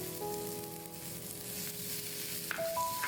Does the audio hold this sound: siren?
no